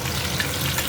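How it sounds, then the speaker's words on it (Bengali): Parshe fish frying in a pan for a tiffin meal, an even, dense sizzle heard up close for a brief moment with no voices. "টিফিনের জন্য রুটি আর পার্শে মাছ ভাজা হচ্ছে, সর্ষে দিয়ে হবে"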